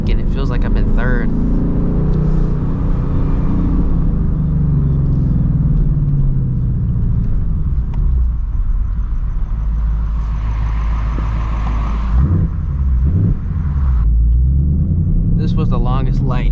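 A 2024 Ford Mustang GT driving through the city late at night, its engine a loud steady rumble that drops in pitch and swells again as gears change, with someone talking over it throughout.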